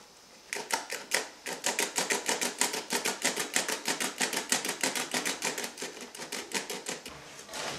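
A handheld sifter cranked over cake flour and dry ingredients for chocolate cake, giving a fast, steady series of rasping metallic clicks that speeds up and continues for several seconds, close and clear.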